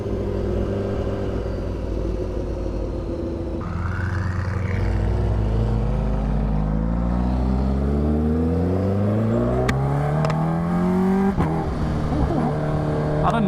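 A Koenigsegg Agera RS engine rises from a low idle rumble into a long, climbing rev with harmonics sweeping upward, loud and close. Sharp exhaust pops and crackles break in near the end.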